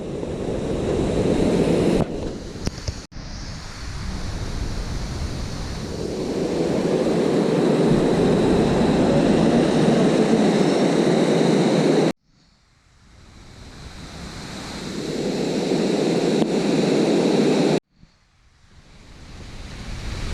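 A tall waterfall in Keonjhar, dropping roughly 150 feet, roars as a broad, steady rush of falling water, with wind buffeting the microphone and abrupt cuts between takes.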